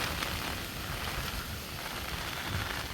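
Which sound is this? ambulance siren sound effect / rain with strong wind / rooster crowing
rain with strong wind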